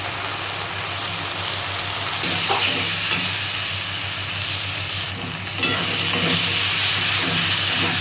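Ground spices (cumin, coriander, red chilli and Kashmiri chilli powder) fry in a pan with a steady, dense sizzle, and a spoon stirs them now and then. It grows slightly louder partway through, with no voices.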